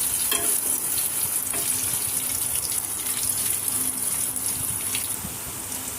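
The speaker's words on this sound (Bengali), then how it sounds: "তেলের উপর পেঁয়াজ কুচি দিয়ে দিয়েছি, নেড়ে চেড়ে সুন্দরভাবে।" Chopped onion fries in oil in a wok, a continuous bright sizzle with occasional stirring scrapes, close and steady throughout, while cooking soya with potatoes.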